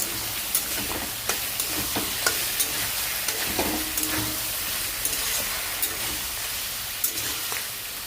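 Ridge gourd and potato curry is stirred in a pan over a soft background sizzle, with repeated spatula scrapes and taps against the pan at a steady, fairly quiet rhythm, no voices.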